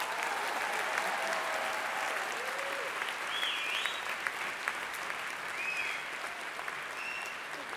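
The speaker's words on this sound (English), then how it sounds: "Let's give them an extra applause." Sustained applause from a large crowd at the ISFiT 2013 Student Peace Prize ceremony fills the whole stretch, steady and dense, with a few faint whistles or cheers rising above the clapping.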